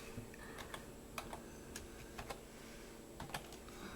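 Faint, irregular typing on a computer keyboard, scattered key clicks and short bursts over a quiet room hum.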